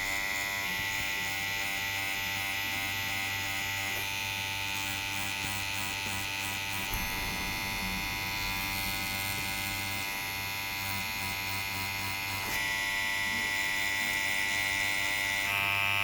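A tattoo machine fitted with a thin needle buzzes steadily and close by for the whole stretch, a continuous electric drone with brief shifts in tone as the work goes on, no voices.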